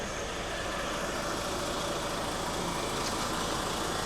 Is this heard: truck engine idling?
yes